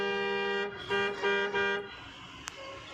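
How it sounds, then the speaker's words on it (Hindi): A car horn sounds a sustained blast, then gives several quick honks in a row before falling silent. "Horn horn horn."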